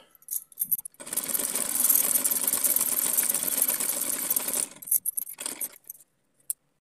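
A sewing machine stitches a small doll's dress for Radha Ashtami, running in one steady whirring burst of about four seconds, with light clicks and fabric handling before and after.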